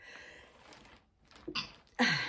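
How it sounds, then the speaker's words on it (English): A single close sneeze, a sharp noisy burst after a short intake of breath, followed by a quick second exhale. "I'm gonna sneeze"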